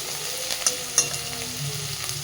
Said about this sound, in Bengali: চিংড়ি মাছটাকে এবার একটু ভেজে নিতে হবে